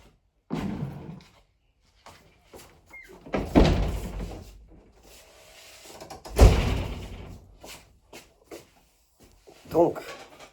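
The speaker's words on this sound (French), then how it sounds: "je vais fermer les portes avant." Front doors being shut, with a couple of solid thuds and slams amid movement, while someone talks nearby before and after.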